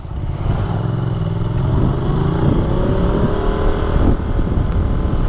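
An older Ducati Monster motorcycle engine runs loud and close, its pitch climbing steadily as it revs, with mechanical clatter underneath.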